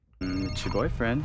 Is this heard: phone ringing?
yes